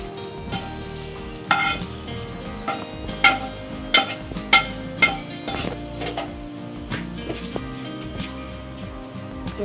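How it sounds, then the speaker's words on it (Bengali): Dried fish (shutki) dry-frying in a pan with no oil, soft sizzle under a series of sharp metallic clinks and scrapes of a spatula stirring close by. "আমি তো ওগুলো তেল ছাড়া ভাজছি"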